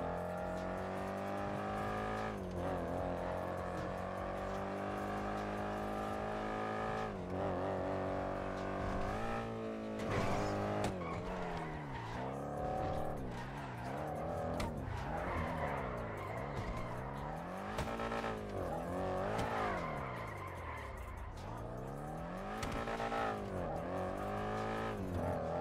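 Cars racing in a GTA roleplay game, with engines revving up and down in sweeping pitch changes and repeated tire squeals and skids, loud and continuous.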